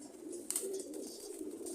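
Male pigeon of an old-lineage breed cooing softly in a loft, a low murmuring coo with a few faint sharp chirps and rustles around it.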